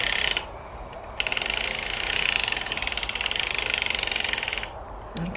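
Hand-cranked sock knitting machine clattering through rows, a fast rhythmic mechanical ticking that pauses briefly near the start, then runs steadily before stopping near the end.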